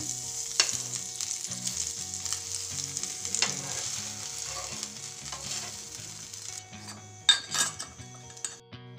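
Bread pizza fries in butter in a pan with a steady, close sizzle, broken by occasional clinks and scrapes of a utensil against the pan.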